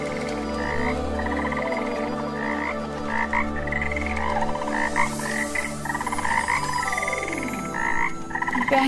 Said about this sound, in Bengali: ব্যাঙের ডাক